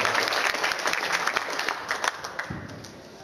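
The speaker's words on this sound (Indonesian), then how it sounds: "Tepuk tangan untuk Pak Arifin Purba." A hall audience claps for a visiting preacher, a dense, continuous round of applause at moderate distance that thins slightly toward the end.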